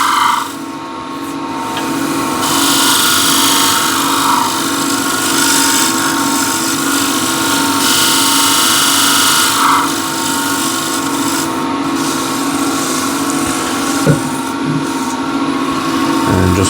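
Wooden bowl spinning on a lathe while a tool shear-scrapes its surface, a loud steady rasping hum with brighter scraping passes that come and go, and one small knock near the end.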